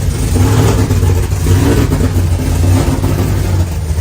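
A car engine with a drive-by-wire throttle body, low vacuum and locked cams revs loudly and close, a rough, uneven drone that keeps going with no talking over it.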